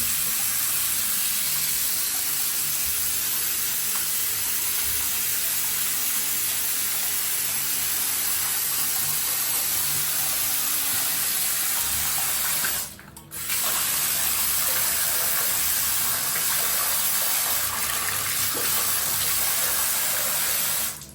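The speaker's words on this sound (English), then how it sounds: "try 40 different ways to try to force the water up into the shower head" Water runs steadily from a tap being forced up into a shower head, a loud continuous hiss and splash that briefly cuts out near the middle before resuming just as strongly.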